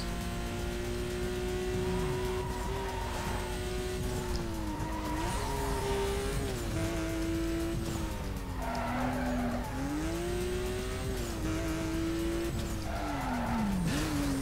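Racing car engine from Need for Speed: Most Wanted, fitted with a supercharger, revs hard and continuously with pitch rising and dipping through gear changes, while loud tire squeals and skids recur through the corners.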